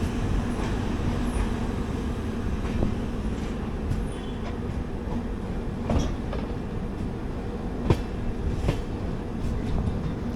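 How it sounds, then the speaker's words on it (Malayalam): Heard from on board, the Yesvantpur–Kochuveli AC Express runs on the main line just after Banaswadi station, with a steady low rumble and scattered rail clicks and knocks, moderately loud and continuous, with no talking. "നമ്മുടെ ട്രെയിന് ഇപ്പം നമ്മൾ ഈ നിൽക്കുന്ന ലൈനിൽ തന്നെ കണ്ടിന്യൂ ചെയ്യും."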